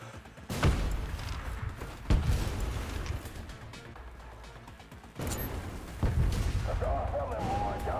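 Automated turrets firing in the video game Trepang2, heavy booming shots landing every second or two over a continuous rumbling battle din, with a few separate louder blasts.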